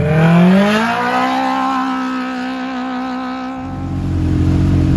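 A powerful UTV engine revs hard in the desert. The note rises in pitch, holds a loud, steady whine, then drops, and a second engine growls in toward the end. The sound is close and loud, with no one speaking.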